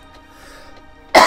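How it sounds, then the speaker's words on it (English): A single sharp, loud cough bursts out at the very end, right after near silence with a faint background hum. "I'm sorry for any coughing that comes through the microphone."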